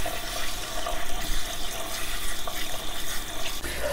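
Tap water runs steadily from a faucet to rinse out a used paper towel, a continuous close splashing rush with no speech.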